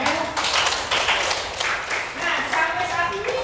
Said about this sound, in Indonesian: beri tepuk tangan untuk kelompoknya Ahmed